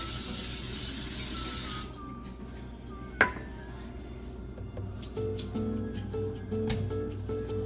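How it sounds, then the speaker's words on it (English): A short burst of aerosol cooking spray onto a pan hisses for about two seconds, then a sharp clack, followed by soft sizzling of chicken tenders and kitchen clatter. "I'm putting some cooking spray on my pan so this chicken doesn't stick."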